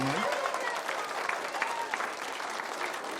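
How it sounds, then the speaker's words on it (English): Audience applause greeting a guest on a coffee-themed podcast, steady clapping from a crowd filling the whole moment at a moderate level, with no talk over it. "Let me give him a round of applause."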